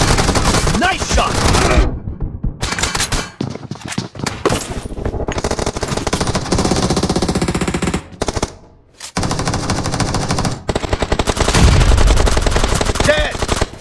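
Rapid automatic gunfire from the mobile battle-royale shooter PUBG Mobile in a team deathmatch, loud bursts of repeated shots broken by short pauses, with game music and effects layered beneath and a closing flurry of fire.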